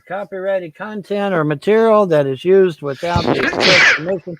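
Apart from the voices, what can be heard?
sneeze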